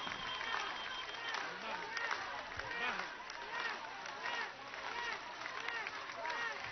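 A large crowd at a 2016 political rally in Venezuela, where the president receives a march of Socialist Missions, applauds and cheers, a dense, sustained wash of clapping and voices under ongoing amplified speech.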